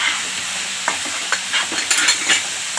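Cabbage bhaji being stirred in a pan after coriander goes in makes a constant frying hiss broken by a cluster of spoon scrapes and taps toward the end, close up and with no speech.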